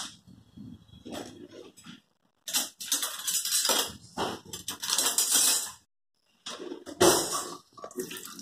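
A spoon mixes ingredients in a bowl while making a makhana recipe, with bursts of scraping and clinking separated by short pauses, close and fairly loud.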